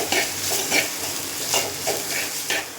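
A spoon scrapes around a pan of spices and curry leaves sizzling in oil for a buttermilk curry, with regular stirring strokes roughly twice a second over a constant close crackle and no talking.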